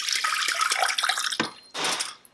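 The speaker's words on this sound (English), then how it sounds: "and then pour some water in the bottom." Water pours into the bottom of an Instant Pot fitted with a trivet, splashing and trickling for over a second, then a brief pause and a second short pour.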